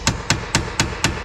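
Hammer striking a chisel to cut off a stuck bolt while installing clutch and brake master cylinders, five sharp metallic blows at an even, quick rhythm, close and loud.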